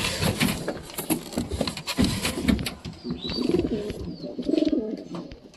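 A Roma pigeon taking over a nest box in a coop, giving repeated throaty cooing calls close by with small rustles and faint chirps of other birds around it.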